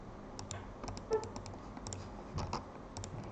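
Keys tap on a computer keyboard while text is entered into embroidery design software, a short run of light, irregular clicks close by with a couple of slightly louder presses, and no speech.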